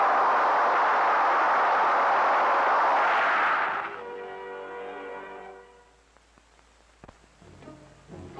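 A six-barrel rotary cannon is test-fired in an indoor range, firing up to 6,000 rounds a minute: one loud, continuous ripping roar of about four seconds, then a ringing whine that slowly fades.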